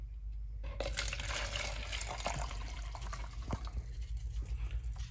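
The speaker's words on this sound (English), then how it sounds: "We could fill up our mold with water and then measure the water that it took to fill up the mold." Water being poured to fill a silicone mold made from a 3D print, a continuous close splashing and trickling with small drips and clinks, fairly quiet, with no talking.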